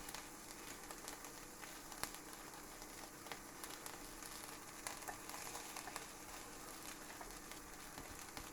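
Halloumi-like cheese re-melting in a hot pan, giving a faint, steady sizzle scattered with small crackling pops, with no voices over it.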